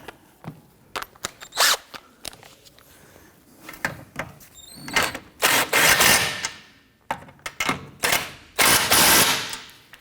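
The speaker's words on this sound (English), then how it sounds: "Let's go ahead and torque down our lower nuts here to 39 foot-pounds." A ratchet works on transmission mount nuts of a 1992-1996 Toyota Camry 2.2L L4, giving quick repeated clicking bursts with pauses between, close and fairly loud.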